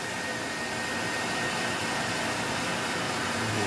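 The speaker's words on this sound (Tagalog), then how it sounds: "i-blow blower niya agad" A loud, steady rush of blowing air from a hot-air blower drying a silk screen, running continuously at close range with no pauses.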